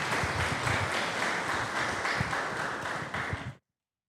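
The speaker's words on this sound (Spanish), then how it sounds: "le tributamos un fuerte voto de aplauso" Steady applause for a player on Club Atlético Andahuaylas's women's football squad at a team presentation, dense and continuous from the start, then cutting off abruptly after about three and a half seconds.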